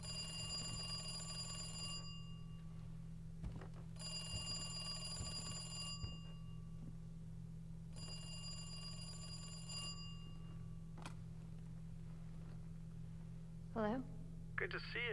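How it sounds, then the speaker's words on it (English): A telephone rings in the Resident Evil 2 Remake video game, three even, electronic bursts about two seconds each with pauses between, over a low constant hum, followed by a brief voice. "Got a phone call, apparently"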